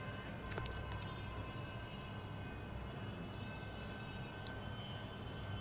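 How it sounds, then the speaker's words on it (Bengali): A train pulls into a station, heard as a low, faint, continuous rumble and hum with a few brief high metallic squeals and clanks. "ট্রেন এসে গেছে স্টেশনে।"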